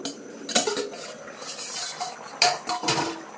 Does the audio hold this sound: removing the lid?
yes